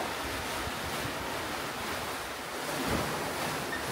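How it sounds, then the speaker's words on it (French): Ocean waves roll at sea in a one-metre swell during a sailing passage from New Zealand toward Fiji, a steady rushing wash with wind buffeting the microphone and no talk. "il y a bien un mètre de houle. Des grosses vagues"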